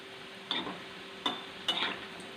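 Jackfruit seeds crisping in a little hot oil, heard as three short, separate bursts of crackling sizzle, each sharp at onset and fading quickly, with near-silence in between.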